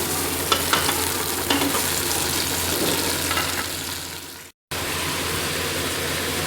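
Mutton sizzles and fries with browned onions in a pressure cooker, a steady hiss broken by a few stirring scrapes, cutting out briefly before the frying noise resumes.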